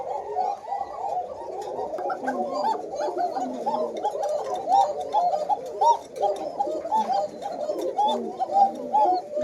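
A flock of Koka pigeons in red, white, black and myna-like colours coos continuously at close range, overlapping throaty calls rolling in a steady murmur with no pauses.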